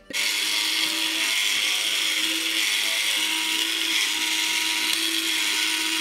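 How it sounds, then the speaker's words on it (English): A steady, whirring motor hum runs continuously with a faint mechanical rattle, constant in level from start to finish with no talking. The motor of a 1993 Peter Pan Roctopus electric board game. "It also means putting up with the sound of a motor throughout the whole game."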